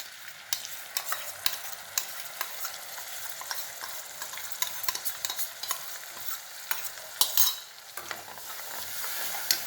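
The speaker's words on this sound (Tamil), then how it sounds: "நல்லா மிதமான தீயில் வச்சு நல்லா இந்த பச்சை வாசனை போகிற வரைக்கும் இது பண்ணணும் ஃப்ரை பண்ணணும்" Ground chili, coriander, turmeric and cumin sizzle and crackle in hot oil over medium heat with steady frying hiss, while a spoon scrapes and stirs the pan at close range.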